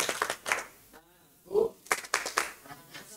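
Several sharp handclaps in a rhythmic pattern mixed with chanting voices, a group doing the Indonesian Islamic children's clapping chant "tepuk anak soleh" in call-and-response.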